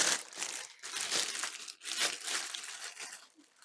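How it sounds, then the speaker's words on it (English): Plastic packaging crinkling loudly and continuously up close, bursts of crackling rustle as it is handled and pulled, with brief pauses between crumples. "I don't like the sound of plastic crinkling."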